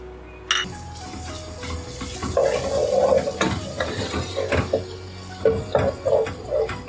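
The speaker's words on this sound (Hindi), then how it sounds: "ऑयल में मैं लहसुन अदरक डाल रही हूँ" Garlic and ginger drop into hot cooking oil, already used to brown onions, and sizzle, with utensil clinks, stirring scrapes and soft frying crackle in uneven bursts at moderate volume.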